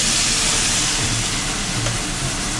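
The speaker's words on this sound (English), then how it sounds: "We're going to deglaze the pot, the pan, get all those beautiful juices off the bottom now." Liquid hits a hot one-pot beef and red wine braise to deglaze it, giving a loud, steady, broadband hiss of steam that runs unbroken for a couple of seconds.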